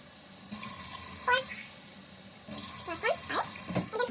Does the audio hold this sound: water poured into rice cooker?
yes